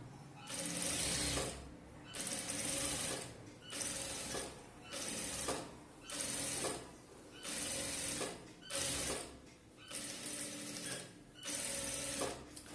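A sewing machine stitches the hem of a chudithar top in repeated bursts of rapid whirring, each about a second long, separated by short pauses as the fabric is turned. The machine is close and clear, and no one speaks.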